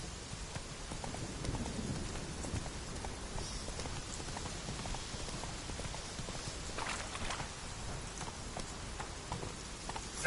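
Roach, a horse in The Witcher 3: Wild Hunt, gallops with a steady, rapid clip-clop of hooves that continues throughout over a dense rain-like wash of ambient noise.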